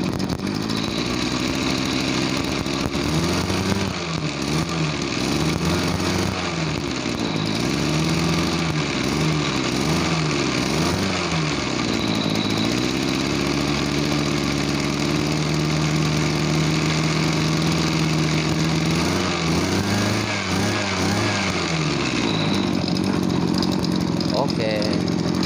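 The petrol engine of a motorized backpack sprayer, one said to lack power, runs loud and close, rising and falling in pitch as it is revved repeatedly and then settling to a steadier idle.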